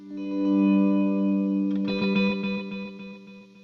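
Electric guitar volume swells through a digital delay set to low repeats, soft chords blooming in and then a second swell with short echoing repeats fading out quickly, alone and fairly close.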